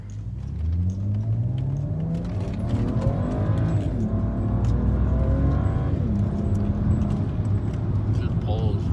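A 2007 twin-turbo BMW 328i accelerates hard and close, its engine rising in a steady pulling drone that holds loud through the whole stretch, with people talking over it.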